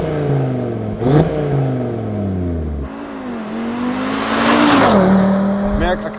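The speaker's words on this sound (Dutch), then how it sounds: "we hebben net een ander uitlaatsysteem geplaatst, van Akrapovic wel te verstaan" An Audi RS3 8Y fitted with an Akrapovič exhaust system revs up loudly in several rising and falling bursts, the engine note climbing and dropping close by with no talking over it.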